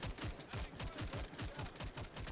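A light machine gun fires in the WWI video game Over The Top, a rapid, even rattle of shots that sounds faint and distant and keeps going steadily without pause.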